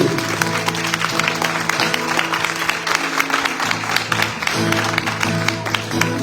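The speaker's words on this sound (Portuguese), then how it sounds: "Então aplauda o Senhor bem forte." Congregation clapping loudly during a Portuguese-language evangelical celebration service, a dense sustained wash of hands with organ or keyboard chords sounding underneath and a few voices in the mix.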